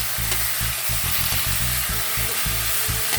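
Chicken pieces for adobo frying in oil and stirred until golden brown, with rapid rhythmic spatula scrapes over a loud, steady, close sizzle.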